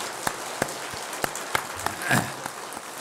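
A church congregation gives a light, sparse round of applause in a sanctuary, scattered individual claps popping out over a soft patter of hands, fairly quiet and distant.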